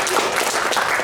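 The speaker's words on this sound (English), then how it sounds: "Okay, now clap." A brief burst of audience applause fills a safety training and town hall meeting room, steady clapping from a small crowd.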